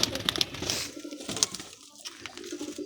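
Pigeons coo softly in a loft among kept birds, some with cords tied to their legs, a low murmuring coo mixed with scattered chirps and shuffling, no voices.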